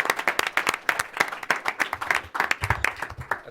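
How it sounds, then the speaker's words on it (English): An audience at a book launch applauds, a dense run of many hands clapping steadily for a few seconds with no voices over it. "I would actually like to offer a round of applause to Alison Cordell"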